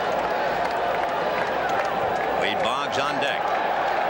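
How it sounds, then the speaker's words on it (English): Stadium crowd at Game 3 of the 1986 World Series cheering in a steady, continuous roar that fills the background while a commentator talks over it. "Crowd coming alive. That walk just seemed to shake everybody up."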